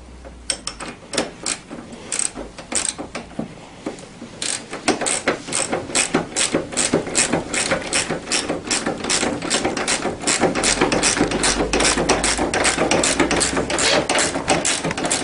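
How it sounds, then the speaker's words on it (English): A socket ratchet tightening the steering column nut on a Tao Tao CY50A scooter: a close, fast run of regular clicking ratchet strokes that starts sparse, then quickens into a dense, steady rhythm. "I'm just going to take my sockets and tighten this up."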